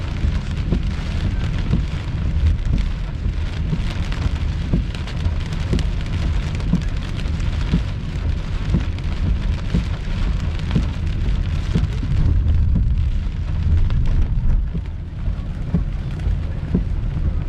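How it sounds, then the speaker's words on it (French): Heavy thunderstorm rain drumming steadily on a car while driving in Quebec during a July storm chase, a dense, loud, continuous patter with no voices. "On va essayer de redépasser l'orage."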